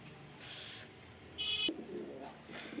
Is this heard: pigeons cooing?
yes